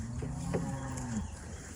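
A cow moos once on a wet, muddy cattle pasture, a close, drawn-out low call over steady outdoor background noise, with no talk.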